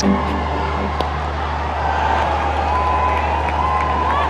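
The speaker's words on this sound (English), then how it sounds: "Lovely crowd." Cricket stadium crowd at a women's One Day International World Cup match between India and South Africa, a steady broad roar of applause and cheering filling the whole stretch, with a commentator's voice faintly over it.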